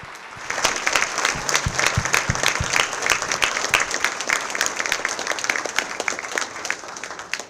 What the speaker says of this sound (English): can I ask for a round of applause for these exceptional teachers and mentors that you see standing up here?